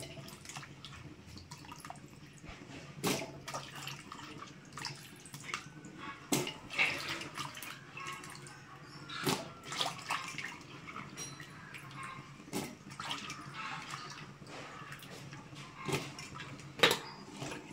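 Vegetables being washed in water for a large batch of Tamil-style wedding sambar, giving steady splashing and dripping with scattered sharper sloshes and clatters, close by and with no one talking.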